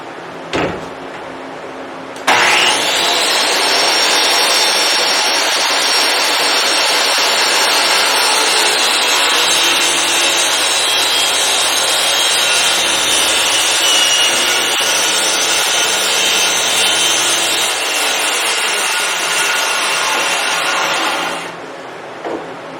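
A circular saw bites into a wooden board and holds one long loud rip through the wood for about twenty seconds, close and alone, before the blade spins down.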